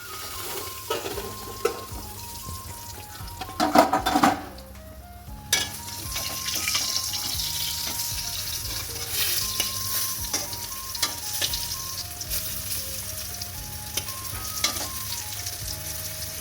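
Potatoes frying in oil give a steady, close sizzle for the whole stretch, broken by occasional scraping stir strokes and a brief louder rattle early on, with a faint melodic tone running underneath.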